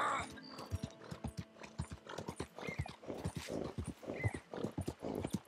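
Horse hooves clip-clop in an irregular trotting rhythm in the Red Dead Redemption 2 video game, close and fairly loud, with some tack rattling and light ambient game sound around them.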